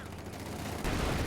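Dense, continuous gunfire from a Company of Heroes 2 battle forms a brief, loud barrage that intensifies near the end.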